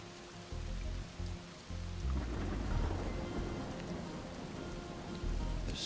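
Thunderstorm with heavy rain in Desperados III, a dense steady downpour with low rolling thunder swelling through the middle, loud and close with no voices.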